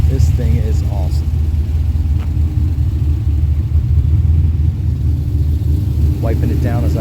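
A 1972 Chevy Nova V8 with a mild cam and Hooker headers idles close by in a steady, loping rumble, its low throb holding even throughout with brief faint voices over it.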